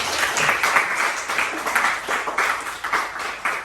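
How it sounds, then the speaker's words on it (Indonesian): A group claps after a presentation, a steady patter of hands in a room, moderately loud and alone, with uneven surges and no talking. "Ya, tepuk tangan dulu."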